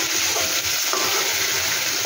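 Fish fry in a pan with a steady, close, continuous sizzle and crackle of hot oil, with no voices.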